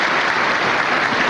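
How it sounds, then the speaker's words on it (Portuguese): A plenary chamber audience claps in a dense, steady burst of applause for President Fernando Collor's inauguration, loud and close, with no speech over it. "Está sendo muito aplaudido pelo plenário."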